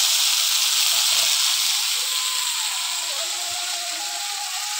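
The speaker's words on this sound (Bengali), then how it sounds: "ভাজা চিংড়ি মাছগুলো শাকের মধ্যে দিয়ে দিচ্ছি।" Fried shrimp dropped into note greens in a hot pan make a loud, steady broadband hiss of sizzling that holds close and continuous throughout, easing off slightly toward the end.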